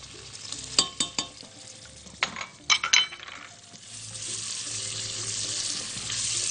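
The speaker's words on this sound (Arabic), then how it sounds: "نحمص الجمبري كويس جدا" Peeled shrimp with garlic frying in ghee in a pan, a steady sizzle with sharp stirring clatters and scrapes in the first half, then a continuous hissing fry building toward the end, no talk.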